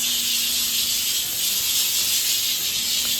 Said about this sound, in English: You just want steam coming out.